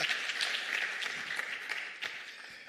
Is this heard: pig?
no